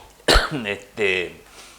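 A sharp, loud cough followed by a couple of raspy throat-clearing sounds, close up.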